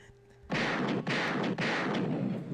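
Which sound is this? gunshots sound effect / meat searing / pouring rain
gunshots sound effect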